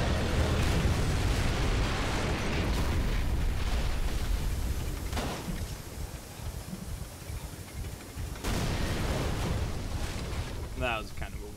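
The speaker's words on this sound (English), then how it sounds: "That was kind of a weird explosion." Explosion in the horror game Call of Cthulhu: Dark Corners of the Earth, a loud sustained rumbling roar that fills the scene, with bursts of debris noise and a brief voice near the end.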